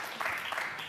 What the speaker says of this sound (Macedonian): Аплауз ве молам.